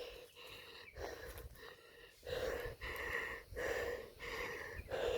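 Heavy, rhythmic panting from a person hiking uphill on a country trail, close and breathy, with about seven or eight hard gasping breaths in a row and no talk.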